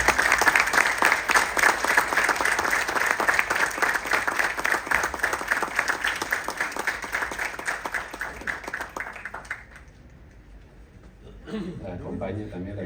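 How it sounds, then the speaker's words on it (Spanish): Strong audience applause at a ceremony, dense and steady for about nine seconds, then fading away; a voice briefly speaks near the end. "Y pedimos un fuerte aplauso por este momento."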